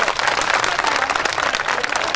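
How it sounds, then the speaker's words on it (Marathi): Outdoors at a large protest march at a district collector's office, a crowd claps to welcome the collector. The applause is loud and close, a dense, continuous patter that holds steady throughout. "त्यांचं टाळ्यावरून आपण स्वागत करावं"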